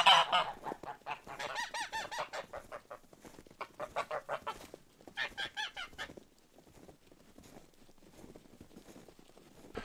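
Farm geese honk and cackle in a run of loud, close calls, with clucking poultry mixed in; the honking comes in bursts before thinning to quieter scattered calls near the end.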